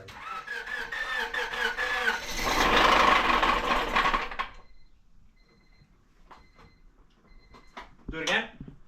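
A car engine with a freshly swapped motor runs loud at a high idle for about four seconds, then cuts out. Quieter clanks and voices follow in the background.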